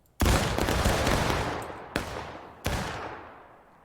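A volley of rifle fire erupts in one loud crashing burst that rolls off slowly, followed by two more separate sharp shots, each echoing away.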